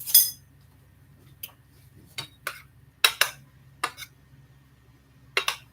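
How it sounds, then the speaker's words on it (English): A spoon scraping and clinking against a pot while rice seasoned with salt, pepper and salsa is stirred and fluffed, several sharp separate knocks spaced out over a low background hum, close by. "I'm just going to stir that up and fluff that"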